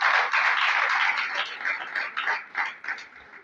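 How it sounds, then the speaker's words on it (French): Audience applause at a political rally for a young democrats' group, a dense burst of clapping that starts loud and gradually thins into scattered claps as it fades. "Applaudissez pour eux, s'il vous plaît."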